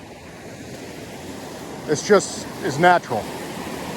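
Steady rushing water from a waterfall and creek in the Newfoundland wilderness, a broad continuous roar close by, with someone briefly speaking over it partway through.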